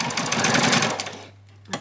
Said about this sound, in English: Put a back stitch in.